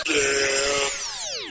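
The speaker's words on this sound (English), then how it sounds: "Goat, goat, goat!" A goat lets out a single loud, nasal bleat that holds steady and then slides sharply downward in pitch before ending abruptly, heard alone and close.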